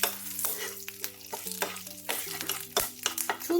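Dry chilli, green chillies and bay leaves stirred in hot oil for an aloo dum, giving a steady close sizzle with repeated scraping strokes of a spatula against the pan and no talk.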